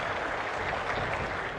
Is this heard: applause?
yes